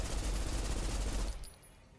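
Rapid automatic gunfire during an on-rails shooting sequence in Snowbreak: Containment Zone, a dense, loud burst lasting over a second before abruptly tapering off into quieter residual game sound.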